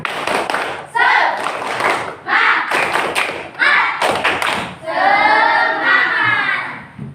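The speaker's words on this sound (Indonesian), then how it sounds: "kalau siap belajar tepuk semangat dulu." A school class performs a rhythmic spirit clap (tepuk semangat) in a classroom, with sharp bursts of unison clapping alternating with children chanting loudly together.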